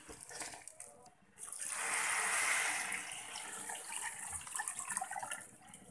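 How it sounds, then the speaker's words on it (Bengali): Water poured into a pot of chicken biryani, a brief pause followed by a swelling rush of pouring that peaks mid-clip and then tapers off with lighter splashing and trickles. "এখন পানি দিয়ে দিব।"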